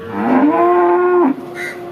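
A single loud, drawn-out buffalo moo, close by at a livestock market, rising then holding steady for about a second before breaking off, with quiet background after.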